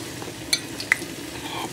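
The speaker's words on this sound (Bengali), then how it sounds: "তো এক এক করে বড়াগুলো এখন ভেজে নিচ্ছি।" Pumpkin fritters coated in gram flour fry in hot oil with a soft, continuous sizzle and two brief clinks of a utensil.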